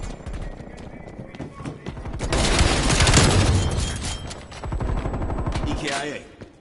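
Automatic fire from an AUG and an SMG in the multiplayer video game Call of Duty Cold War. Rapid rattling bursts build to a dense peak, then carry on in shorter volleys with a voice underneath.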